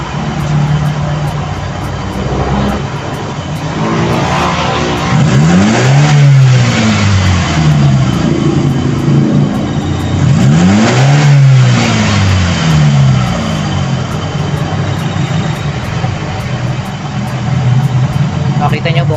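A car engine idles and then revs up twice in long rising and falling sweeps, loud and close, with a steady idle between and after the revs.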